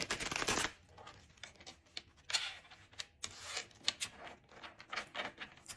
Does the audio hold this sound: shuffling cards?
yes